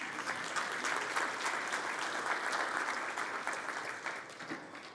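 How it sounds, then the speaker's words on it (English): Audience at a dentists' summit giving a round of applause, a dense, even wash of many hands clapping at moderate distance, holding steady before tapering off toward the end. "Let's give all the ladies here a big round of applause."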